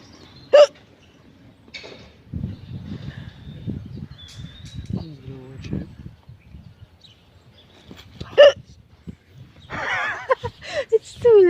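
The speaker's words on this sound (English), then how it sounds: "I've never heard you have hiccups like this before" Several loud, sharp hiccups from a person break out at intervals between murmured conversation and background rustling.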